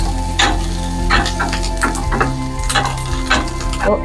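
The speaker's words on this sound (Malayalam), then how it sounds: "ഇഞ്ചി, വെളുത്തുള്ളി, സവാള, പച്ചമുളക് എല്ലാം നമുക്ക് ഒരുമിച്ച് മിക്സ് ചെയ്ത് കൊടുക്കാം. നമുക്കൊന്ന് നന്നായി ഇളക്കി കൊടുക്കാം." Onion, ginger, garlic and green chili frying in a pan while a spoon stirs them, giving a constant loud sizzle broken by rhythmic scraping strokes about twice a second, close up over a low hum, with no speech.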